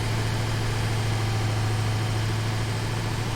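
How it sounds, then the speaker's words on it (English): A tractor's engine drones steadily as it strains up a mountain in the video game Satisfactory, a constant low hum with a strong tonal note and no variation in level, heard alone without speech. "this mountain is killing my tractor"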